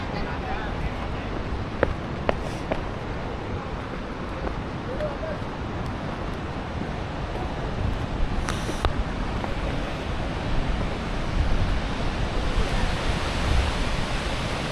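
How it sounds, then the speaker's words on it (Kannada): Bahubali Falls waterfall in Kerala, a steady broadband roar of rushing water that holds constant throughout, with faint voices and light wind noise mixed in. "ನೋಡಿ ಈ ಸೈಡು ಬಂದರೆ ಇವಾಗ ವಾಟರ್ ಫಾಲ್ಸ್ ಬಿಡೋದು ಕಾಣಿಸೋದು ಕ್ಲೀನಕ್ಕೆ"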